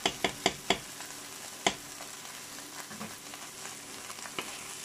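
Food for a toddler's meal fries in a pan with added tomato sauce. A spoon taps the pan several times at the start, then a steady sizzle continues with light stirring scrapes.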